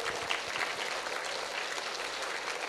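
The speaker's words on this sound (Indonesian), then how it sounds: "Oke, tepuk tangan semuanya." Applause from an audience at a graduation celebration at an Islamic boarding school in Indonesia, a continuous fairly quiet wash of many hands clapping at a steady level.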